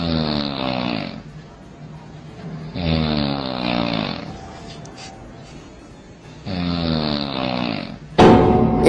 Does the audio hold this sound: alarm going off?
no